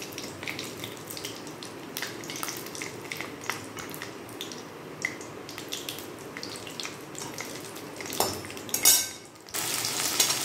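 Cumin seeds sizzle in hot oil in a kadai, a steady crackling fry with scattered sharp pops and light utensil clinks, ending in a louder burst of hiss.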